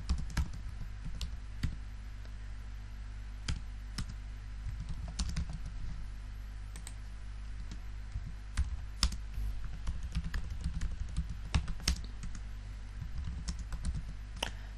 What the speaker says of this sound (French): Je suis en train aussi d'utiliser les raccourcis clavier pour être rapide. Pour ça que je tape assez rapidement.